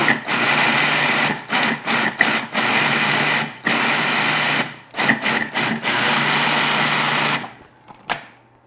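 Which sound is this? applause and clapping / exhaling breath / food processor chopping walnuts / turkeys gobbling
food processor chopping walnuts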